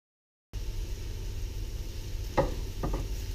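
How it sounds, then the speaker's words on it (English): Vegetables sauté in a hot, dry pan with a steady low sizzle, and a couple of short scraping knocks come from stirring near the end. It is quiet and close, with no talking. "stirring and cooking over a high, dry heat"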